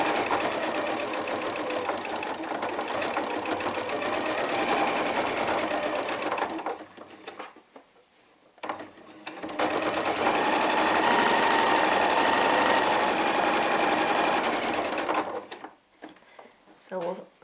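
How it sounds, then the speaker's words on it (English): A sewing machine stitches a pillowcase in two long, loud, steady runs separated by a short pause, with someone speaking over it. "So we'll sew all the way to the end"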